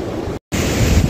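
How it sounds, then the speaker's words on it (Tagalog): Strong ocean waves on a beach, a loud, full roar of surf with wind buffeting the microphone, broken by a brief dropout before the crashing resumes, with no talk. "Sobrang lakas ng alon"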